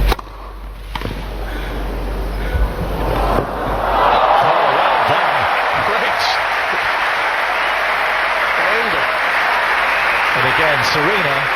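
Wimbledon tennis crowd in 2018, Serena Williams playing Tomova, breaking into broad applause and cheering that swells after a few seconds and holds steady, with a commentator talking over it.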